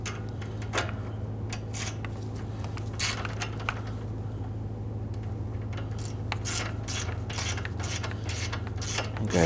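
A ratchet tightens a 10mm bolt on the radiator of a 2011-2017 Nissan Quest, giving a run of quick metallic clicks in irregular bursts over a steady low hum, close by and moderately loud.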